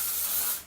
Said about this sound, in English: Then with a little bit of hairspray,